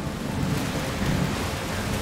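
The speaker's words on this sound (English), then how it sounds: "It's just a storm." Thunderstorm with steady heavy rain in the video game A Plague Tale: Requiem, a continuous broadband wash with low rumbling swells, loud and unbroken throughout.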